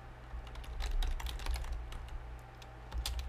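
Fingers type on a computer keyboard in quick irregular bursts of soft clicking keystrokes, close and quiet over a low steady electrical hum.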